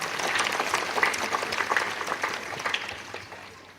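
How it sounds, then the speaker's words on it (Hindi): Congregation clapping at a priestly ordination ceremony in a church, a short burst of steady mixed applause that gently tapers off. "चलिए एक बार ताली बजा देते हैं।"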